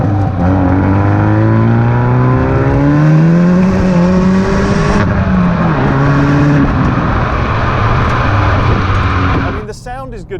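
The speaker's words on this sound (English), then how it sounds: "the sound is good from the exhaust. You get that lovely pop and crackle" Hyundai i30N Performance hot hatch accelerating hard, its engine note rising and dropping through gear changes with brief exhaust pops and crackles between shifts, loud and close, with a short burst of rattling noise at the end.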